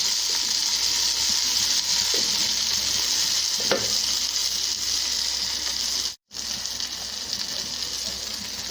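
Drumstick leaf kootu with red chillies fries in a pan with a steady, close sizzle, and a few light stirring clinks and scrapes break through it.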